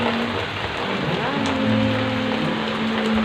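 Steady, heavy rain falling on a surface, a continuous dense hiss with no talking.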